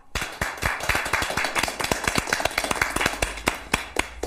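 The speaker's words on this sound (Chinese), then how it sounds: "大家鼓掌。" A small office group claps together to congratulate the winning team at a monthly staff meeting, a dense burst of sharp, overlapping hand claps that carries on steadily for the whole stretch, fairly close.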